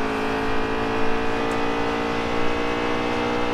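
Race cars in the NASCAR Heat 3 video game during a road course race, a steady dense engine drone with layered tones running continuously at a constant loud level, with no one talking.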